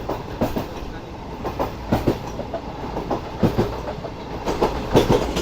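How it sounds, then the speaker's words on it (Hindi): The Pak Business Express rolls along the rails at restricted speed on its Karachi to Lahore run, a steady rumble broken by rhythmic clickety-clack wheel beats, heard up close from inside the carriage. "हमारी ट्रेन इस वक्त जो है वो अप्रोच बना रही है डेरा नवाब साहब रेलवे स्टेशन पर"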